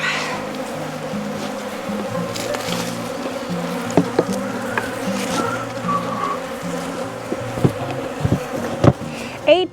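Honey bees hum steadily around beehives on a farm in mid-February, a dense close buzzing swarm that continues throughout with occasional knocks and clatters of hive equipment.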